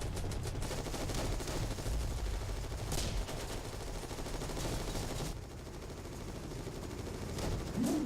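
Rapid gunfire in the World War 2 Online shooter game, dense bursts of shots over a constant rumbling battle background, continuous and fairly loud.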